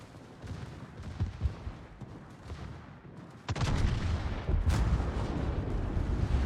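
Naval gunfire from warships in the World of Warships game during a tournament match: scattered distant artillery booms give way to a sudden heavy, sustained barrage with loud overlapping blasts and a bright crack near the end.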